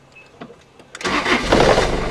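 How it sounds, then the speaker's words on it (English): A Mazda Bongo camper van engine cranks and catches after a few faint clicks, then settles into a loud, steady idle close by. "start the engine up."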